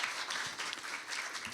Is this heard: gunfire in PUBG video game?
no